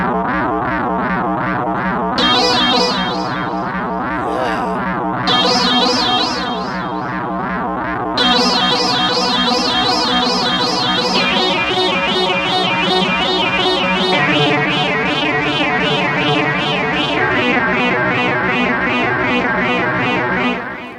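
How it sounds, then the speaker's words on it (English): A Polybrute synthesizer FM patch built from a sine wave holds sustained chords with a shimmering, wavering chorus and a wide reverb tail; the pitch shifts between notes, loud and continuous. "Let's give it some chorus. Yep. Let's give it some reverb."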